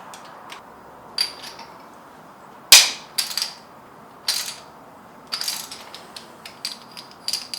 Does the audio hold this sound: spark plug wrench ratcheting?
yes